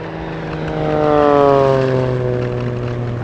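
An aerobatic propeller plane flies a pyrotechnic pylon slalom at an airshow in Leszno, its engine drone swelling as it passes close, then easing off while the pitch slides downward.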